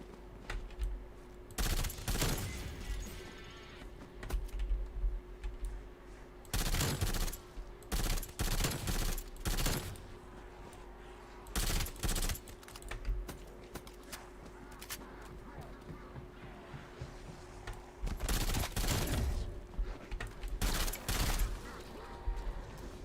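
Submachine gun and tactical rifle fire in Call of Duty Zombies, rapid automatic bursts in repeated short volleys, loud and close, separated by quieter stretches of game ambience with a steady hum.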